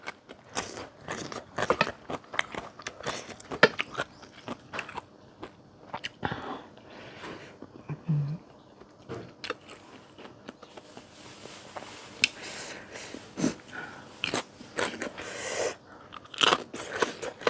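Crunchy biting and chewing on chili while eating northern Thai sausage with fresh vegetables, a long run of close, irregular crisp crunches and smacks with no talking.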